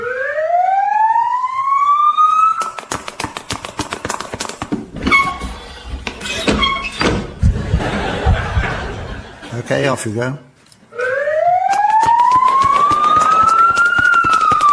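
A wailing siren sound effect rises and holds at the start, gives way to clattering and talking mid-clip, then swells again loudly at the end, in a British radio comedy scene.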